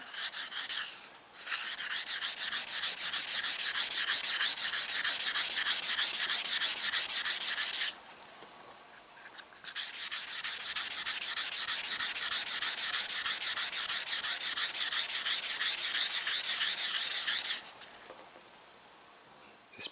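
Wet-sanding a car's clear coat with 2000-grit paper to cut down a bug and orange peel, a steady close scratchy rubbing in fast back-and-forth strokes that stops briefly twice.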